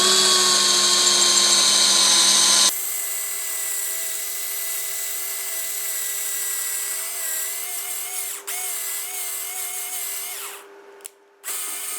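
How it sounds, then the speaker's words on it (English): A power drill widens a hole for a bolt, a loud, close, continuous high whine that shifts pitch after a few seconds, then cuts out briefly twice near the end. "start putting the drill inside, and then slightly give pressure and then open out so the hole becomes bigger"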